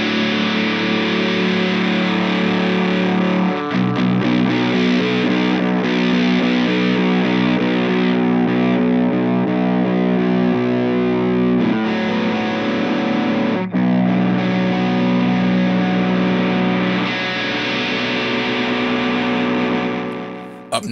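Electric guitar played through an EarthQuaker Devices Sunn O))) Life V3 distortion pedal as its tone knob is swept, producing a loud, continuous, heavily distorted drone whose brightness shifts darker across the sweep, with no voices.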